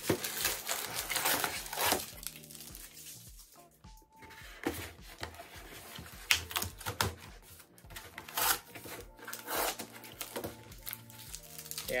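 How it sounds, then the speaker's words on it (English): Tape being peeled off the packaging of a G.I. Joe Classified Cobra Viper 3-pack toy figure box, heard as close, continuous crinkling and ripping with scattered sharp snaps and no talking. "Pull this tape off so we can"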